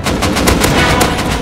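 Rapid automatic gunfire in the survival game Rust, a dense burst of about eight sharp close shots in quick rhythm over under two seconds, loud and alone.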